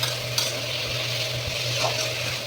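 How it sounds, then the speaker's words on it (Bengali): Bottle gourd peels frying in a pan after garlic, onion and chillies, a loud, close, continuous sizzle with faint scraping, no talking. "রসুন, পেঁয়াজ, মরিচ ভাজার পরে এখন লাউয়ের ছিলকাগুলো দিয়ে দিব।"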